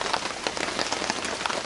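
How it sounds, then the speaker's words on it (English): Rain dripping straight down through holes in a roof tarp at the edge of the roof, a dense steady patter of drops close by, with no voices. "I have rain dripping straight down"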